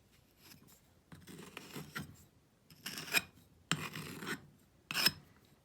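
A tool scrapes over a ring in sand casting in several separate strokes. The rasping passes are short and dry, spaced apart by brief pauses, and close to the listener.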